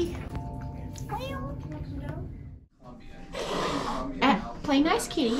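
Cats meow in a cat café, several plaintive, rising cries close by, mixed with a person's voice talking to them.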